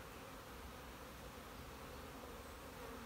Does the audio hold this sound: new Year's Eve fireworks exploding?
no